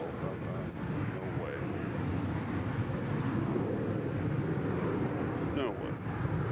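An airliner at Nashville International Airport gives a steady, broad engine roar that holds loud and even throughout, likely passing near the runway, with faint voices mixed in.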